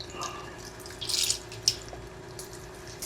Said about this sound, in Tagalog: 1/2 cup na tubig.